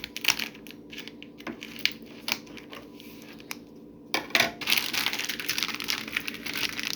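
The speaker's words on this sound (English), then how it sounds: "So I'm going to use the scissors to cut this open." Scissors snip and crunch through crinkly plastic spaghetti packaging in short bursts, with clicks and rustling. The cutting grows louder and denser toward the end, with no voices.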